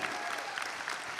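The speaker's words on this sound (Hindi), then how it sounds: "Well, ladies and gentlemen, जोरदार तालियां for Monty." Applause from a film screening audience, a dense, continuous patter of many hands clapping at moderate level throughout the brief moment, with no speech over it.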